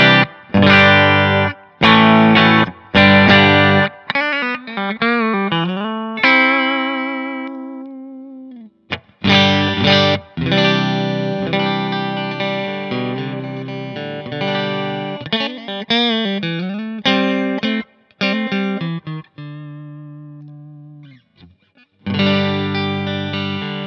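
An electric guitar plays through a Tone City DP Durple pedal into a Fender Bassman amp profile, loud and distorted with a swirling chorus-like wobble. Chords and riffs ring out in phrases broken by short pauses.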